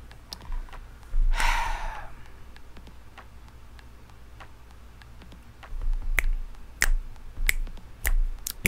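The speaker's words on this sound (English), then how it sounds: "while I'm snapping my fingers" Finger snaps crack out sharply, one early and then a quick run of about five near the end, close and crisp against a quiet room background with no one talking.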